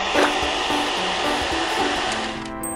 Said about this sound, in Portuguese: e passar o aspirador de pó.